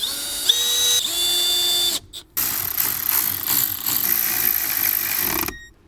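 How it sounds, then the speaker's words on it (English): A power drill drives screws into the bottom of a Jeep Wrangler JL glove box, a steady whining motor run that briefly stops and then restarts in a longer, close, loud burst. "I'm going to put these 3 screws into the bottom of the glove box"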